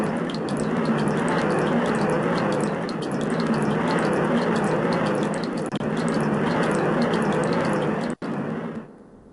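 A steady roar of draining water fills the Water Temple in Zelda: Ocarina of Time, an unbroken gush with light dripping textures, briefly cut by a sharp click near the end before fading out.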